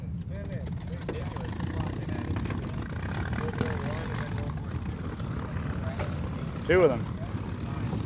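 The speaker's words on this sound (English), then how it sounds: "there's a Mustang starting behind us" A P-51 Mustang piston aircraft engine starts up at an airshow, a low steady propeller drone rumbling in the background behind nearby conversation.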